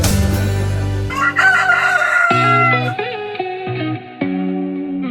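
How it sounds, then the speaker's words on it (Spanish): A rooster crows loudly and close, a long drawn-out cock-a-doodle-doo opening a radio program, with strong harmonics and a trailing, uneven tail as the call breaks and fades. "con el maravilloso canto del gallo"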